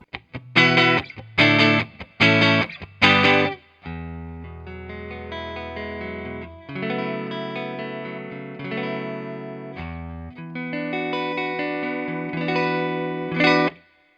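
Electric guitar played clean through an amp with only reverb, a few sharp strummed chords followed by ringing, sustained notes that trail off into the room.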